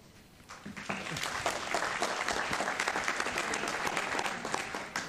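A city council chamber audience breaks into a round of applause for student council and youth leadership groups, rising quickly after a brief quiet start and holding as a dense, steady clapping to the end.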